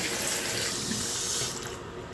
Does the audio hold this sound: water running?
yes